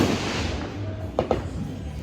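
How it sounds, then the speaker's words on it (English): Fourth of July fireworks going off in a neighborhood at sunset, two quick distant bangs in close succession over steady outdoor background noise. "There is fireworks going on everywhere though."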